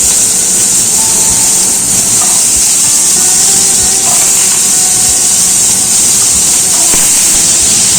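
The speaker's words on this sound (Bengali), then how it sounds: "এবার দিয়ে দিচ্ছি ছোট ছোট করে টুকরো করা আলুগুলো।" Small diced potatoes hit hot oil already tempered with nigella seeds and dried red chillies, giving a loud, steady, close sizzling hiss that stays unbroken throughout.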